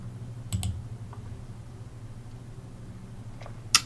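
Computer mouse clicks, a couple of quick close clicks early on and another near the end, over a low steady hum while navigating a trading web page.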